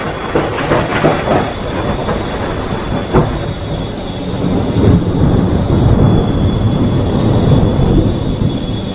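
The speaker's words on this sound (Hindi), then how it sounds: "आधी रात को बहुत तेज बारिश होती है।" Dense, steady roar of heavy rainfall fills the scene, broad and continuous, with a few sharp crackles and occasional low rumbles beneath.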